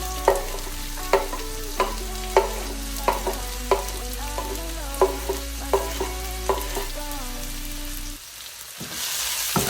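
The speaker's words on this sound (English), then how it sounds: "I'm just gonna saute for 30 seconds before I add the garlic" Red onion sautéing in oil in a pot, a low steady sizzle with regular spoon scrapes roughly every half second, close and clear, then the sizzle drops away near the end, with no talking.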